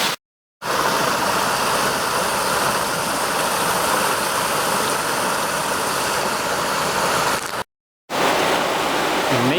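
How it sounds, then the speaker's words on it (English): Mill Creek Falls, a creek waterfall near the Susquehanna on the York County side, heard from under a road bridge as a steady, loud broadband rush of falling water that continues almost without break. "I'm going to guess that this is Mill Creek Falls."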